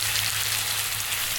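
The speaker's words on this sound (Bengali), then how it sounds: "তারপর হচ্ছে ভালোভাবে পেঁয়াজটা ভেজে নেব।" Onions fry for mutton kalabuna in a steady, close, even sizzle with no other sounds over the brief moment.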